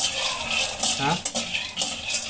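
Peanuts dry-roasting in a pan for peanut chutney, stirred with a few scraping, rattling strokes over a soft steady sizzle, close and moderately loud.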